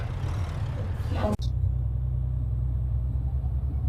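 A truck drives in Euro Truck Simulator 2 with a steady low engine rumble throughout. Faint speech and hiss sit over it early on, then a sharp click cuts in and the drone continues alone.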